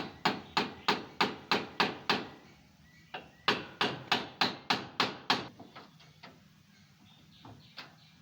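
Steady hammer blows ring out at a construction site, two runs of about seven evenly spaced, loud strikes separated by a short pause, then fading into a few softer, scattered taps.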